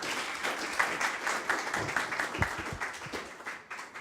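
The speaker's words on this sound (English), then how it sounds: "let's give a round of applause to Professor Glosserman" Steady applause from a lecture audience in Rome welcoming Professor Glosserman, a dense patter of many hands sustained for several seconds before tapering off.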